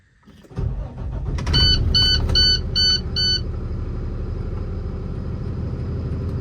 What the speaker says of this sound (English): I'm gonna hop in the truck and take it for a spin